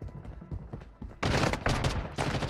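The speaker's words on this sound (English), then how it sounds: "Oh, he's shooting me from behind." Gunfire in Call of Duty: Warzone crackles in rapid bursts, with softer shots at first and then a louder, dense volley of automatic fire, close and intense.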